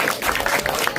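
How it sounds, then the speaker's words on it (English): Brief burst of audience clapping during a devotional lecture, a dense, steady patter with no talk over it. "All of you please clap and say Govinda."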